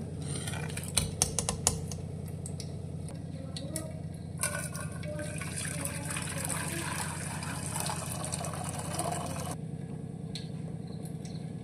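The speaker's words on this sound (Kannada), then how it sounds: "ಈಗ ಕಾಳು ಮತ್ತು ನೀರು ಸಪ್ರೇಟ್ ಮಾಡ್ಕೊಳ್ತೀವಿ ನಾವು ಫಿಲ್ಟರ್ ಮಾಡಿಕೊಂಡು" Boiled moong dal being strained to separate the beans from their cooking water: a steady pour and splash of liquid with occasional clinks of kitchen utensils, close and fairly quiet throughout.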